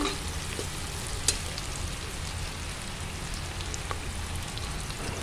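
Steady crackling sizzle of onions sautéing in hot oil until golden for mint rice, continuous and close, with an occasional louder pop and no talking.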